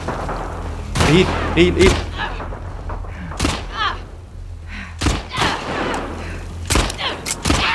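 Gunfire in The Last of Us Part II: scattered loud shots and heavy thuds ring out in irregular bursts while someone talks urgently over them.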